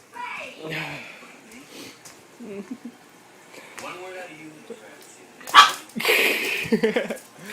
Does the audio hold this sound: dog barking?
yes